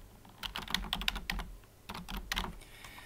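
Rapid typing on a computer keyboard while entering a title in video editing software, close clicky keystrokes in two quick bursts separated by a short pause.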